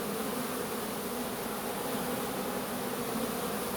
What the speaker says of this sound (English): I know, covered in bees, but they're all crawling on the inside of my veil now.